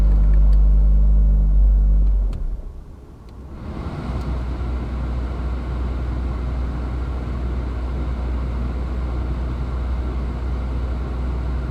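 Toyota Prius engine starting up to charge its battery: a loud low idle drops away, then a steady engine rumble settles in and runs evenly, with no talking.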